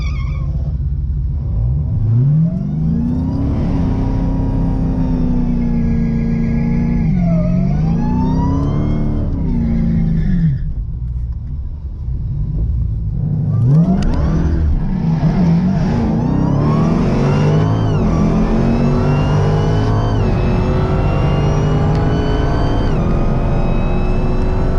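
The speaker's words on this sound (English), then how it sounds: "Gonna make a pass on E85," A modified Dodge Challenger drag car running E85 makes a pass at a drag racing car show, its engine loud and close as it revs and rises in pitch through repeated bursts while the tires spin.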